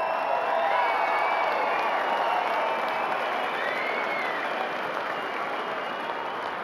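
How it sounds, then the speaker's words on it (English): A stadium crowd at a rugby trophy presentation after a provincial final between Taranaki and Hawke's Bay applauds steadily, with scattered cheers and whoops, heard from some distance for several seconds. "how about a round of applause for the Hawke's Bay Magpies and your Taranaki Bulls?"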